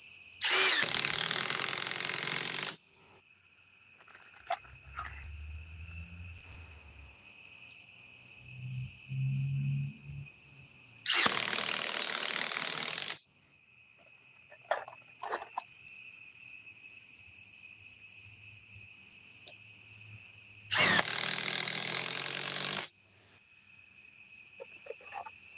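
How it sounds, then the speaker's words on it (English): Master Force mid-torque cordless impact wrench on a 2.5 amp hour battery, firing in three loud, sustained bursts of about two seconds each, with quieter pauses between them and no talking. "It's the size of a compact impact wrench. Well, not compact. Let's say mid-torque."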